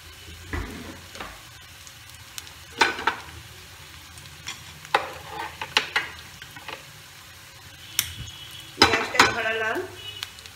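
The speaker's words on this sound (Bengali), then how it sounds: "ডিম দুটোকে নুন, একটু ধনে পাতা, দুটো কুচি রসুন আর একটু পেঁয়াজ দিয়ে এটাকে ফাটালাম।" Eggs being beaten with salt, coriander leaves, chopped garlic and onion in a bowl, a series of irregular clinks and whisking clatters of utensil on dish, close and alone without talk.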